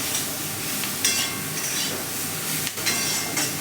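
Bitter gourd frying in a pan with a little oil and no spices, giving a steady close sizzle with soft stirring scrapes and a few brighter bursts of hiss.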